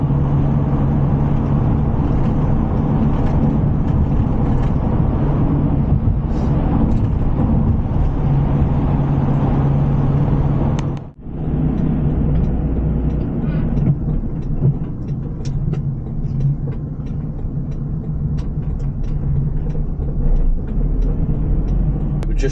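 A VW Crafter van driving along a road, a steady loud engine and road rumble running throughout with a brief dropout midway, then the drone resuming.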